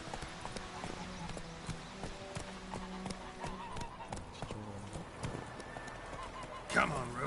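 Hooves of Geralt's horse Roach clip-clop steadily in The Witcher 3, a continuous trotting rhythm carried along under game music and ambient sound, with a voice speaking over it and a brief louder burst near the end.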